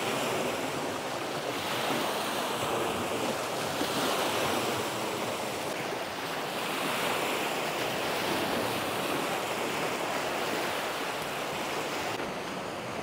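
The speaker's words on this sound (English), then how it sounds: "Hopefully you can hear me with the wind." Steady wind and surf along the Lake Erie north shore, with continuous rushing waves and gusts buffeting the microphone as a loud, unbroken roar throughout, no talking.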